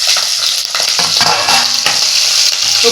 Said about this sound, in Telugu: ఫస్ట్ పచ్చిశనగపప్పు వేపేసుకుందాము